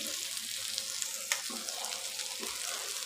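Quiet sizzling of vegetables frying in a pan with a soft crackle and an occasional light clink, fairly close and unbroken by talk.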